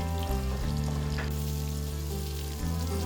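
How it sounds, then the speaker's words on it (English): Spring onion sizzles steadily in hot vegetable oil in a pot, a continuous close frying crackle with faint stirring clatter underneath and no speech. "You stir fry for a minute."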